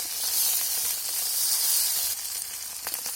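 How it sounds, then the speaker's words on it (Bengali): Small parshe fish fry in hot oil with a loud, steady, close sizzle. The dense hiss carries throughout, with a few sharper crackles near the end and no talking. "বাকি মাছগুলো একই রকমভাবে ভেজে নেব"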